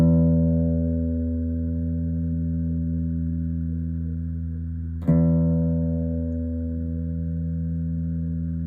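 A sustained guitar string rings close and steady while being tuned by ear, with a single sharp pluck midway that restarts the ringing tone, no talking.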